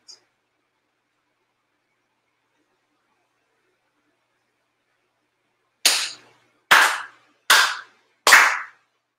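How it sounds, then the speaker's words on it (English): Four sharp ceremonial hand claps at a Shinto prayer, made together with the head officials, evenly spaced and crisp after a long quiet stretch, with no talking. "4 sincere claps along with the head officials."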